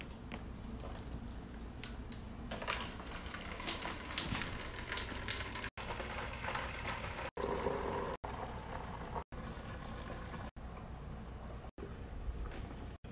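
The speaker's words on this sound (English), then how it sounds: "Put one end of your siphon into the bucket, and then put the other end into your second fermenter." Beer flowing through a siphon from a bucket into a second fermenter, a steady close trickling and gurgling with faint bubbling, briefly cut by short dropouts.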